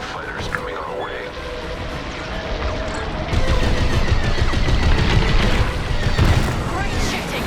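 Starfighter laser cannons in Star Wars: Squadrons fire in rapid volleys, with rumbling engine noise and explosions that grow louder partway through, under radio chatter.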